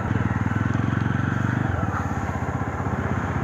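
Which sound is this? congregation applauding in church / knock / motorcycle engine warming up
motorcycle engine warming up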